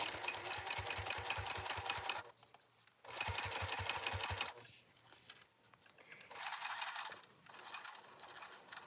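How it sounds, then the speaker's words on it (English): Several short runs of a sewing machine topstitch through layered fabric with a tab and elastic on a travel organizer, close and even, separated by brief quiet gaps of fabric handling. "I'm trying to make sure that all the layers here are getting top stitched"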